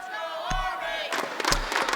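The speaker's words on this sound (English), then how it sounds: "a lot of Army fans in the crowd apparently" Crowd of Army fans cheering and roaring at the Rainbow Six US Nationals esports finals in Las Vegas, a sustained mass of voices that swells louder halfway through, with scattered shouts over a faint background voice.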